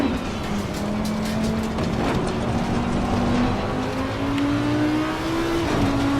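A 2019 Audi R8 LMS GT race car engine in Assetto Corsa Competizione at Bathurst drones loudly and steadily, its pitch slowly climbing as it revs up, then dropping briefly near the end.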